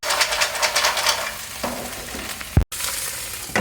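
Mussels hit a hot pan in Naples-style cooking, giving a loud, steady close sizzle and spatter that crackles on throughout, broken by a brief clatter and a sudden cut before the frying resumes.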